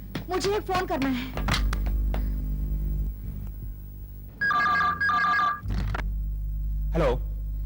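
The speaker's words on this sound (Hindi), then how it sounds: "सैम, तुम्हारे लिए फोन" A telephone rings in two trilling electronic bursts in the middle of the clip. People talk before and after the rings over a steady low hum.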